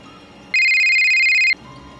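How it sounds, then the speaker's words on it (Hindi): A mobile phone rings at night with a single loud, steady electronic tone lasting about a second, standing out clearly against quiet background hiss. "तभी अचानक मोबाइल बज उठा।"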